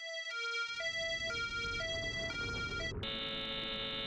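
A traffic signal melody from the Chaos;Head NOAH video game plays as a simple, bright electronic tune of stepping tones, heard over a phone, then cuts off abruptly into a loud harsh buzzer.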